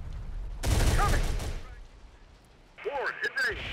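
Artillery booms in Terminator: Dark Fate Defiance arrive as a heavy, loud burst lasting about a second, followed by quieter rumble and a later, shorter volley with someone speaking in between.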